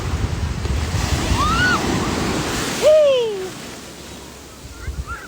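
Sea waves at a beach roar broadly and steadily, swelling and easing, while children's high calls and voices ring out over the surf.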